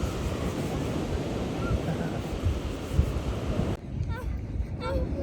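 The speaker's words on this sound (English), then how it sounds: "Sometimes sea with a few waves is actually the best fun." Sea waves break and wash along a beach in a continuous roar of surf, close and broad, with wind buffeting the microphone before the sound suddenly drops and thins near the end.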